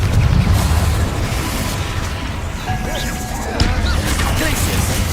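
A Confringo fire-blast spell erupts in the video game Hogwarts Legacy, a loud rumbling burst with debris-like crackle, followed by a second heavy impact about midway through, all over a dense low game background.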